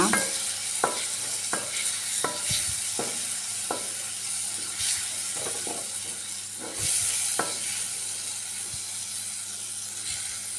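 Masala frying in a pan with vinegar poured in for a sweet lemon pickle, a continuous sizzle under irregular scraping and clacking stir strokes, close and fairly loud, with a brief surge of hissing partway through.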